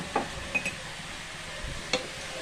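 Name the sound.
stirring coriander powder into chicken pepper curry in a pan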